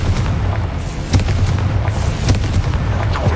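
A Confringo fire spell explodes in the Hogwarts Legacy video game, loud booming blasts with sharp cracks over a constant low rumble.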